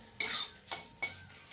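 Eggplant frying in oil in a pan while a metal spatula stirs it, giving three sharp scraping clinks against the pan over a soft, faint sizzle.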